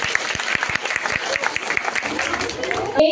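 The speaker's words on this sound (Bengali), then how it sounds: "সকলকে সবার জন্য আবারও জোরে করতালি চেয়ে নেব" Audience applause at a nursing college cultural program: many hands clapping in a dense, lively burst, with some crowd voices mixed in underneath.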